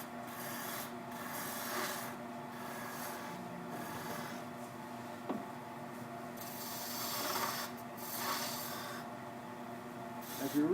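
Wood lathe with a gouge cutting captive rings on a wooden goblet, a continuous raspy scraping and rubbing at close range that swells and eases in repeated passes over a low running hum.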